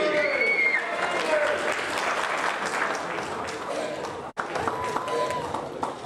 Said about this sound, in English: Let's bring him on with a warm round of applause.